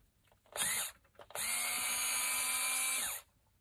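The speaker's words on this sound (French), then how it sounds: "j'utilise une visseuse." A cordless screwdriver drives screws into an RC car differential: a short whirring burst, a pause, then a longer steady high-pitched whine that winds down, close and alone.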